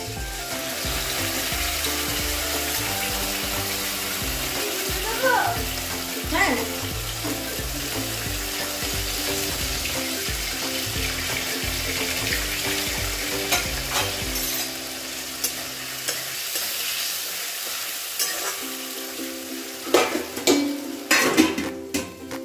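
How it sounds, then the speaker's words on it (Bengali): Potatoes frying in oil with a ground paste of cumin powder, ginger and green chilli, a steady sizzle broken by repeated scraping stirs and clinks of a utensil against the pan, easing toward quieter sizzling near the end. "আলুটা ভাজা ভাজা হয়ে গেছে, মশলাটা পুরো ভাজা হয়ে গেছে, তেল ছেড়ে দিয়েছে।"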